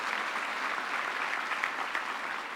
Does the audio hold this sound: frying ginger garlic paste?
no